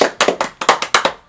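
Short bursts of hand clapping during a Pokémon Lost Origin booster box opening, about eight sharp claps in an uneven rhythm, close and fairly loud, with no talking over them.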